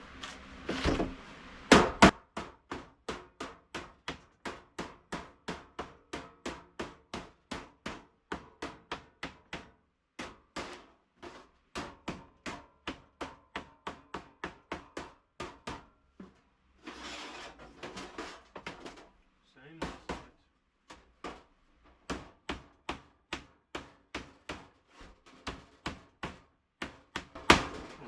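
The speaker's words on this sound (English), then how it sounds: "I'm going to do a lot of tapping" Rapid, steady hammer taps on a metal braai hood, close and sharp, in long runs broken by brief pauses, with no talking.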